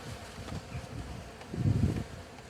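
Honeybees buzzing during a rooftop beehive cut-out removal, a close, steady low hum that swells louder for about half a second near the end.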